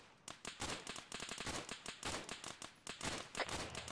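Rapid, irregular bursts of gunfire in a tactical shooter game, sharp cracks repeating densely through the stretch with a few brief louder volleys, close and loud with no talk over them.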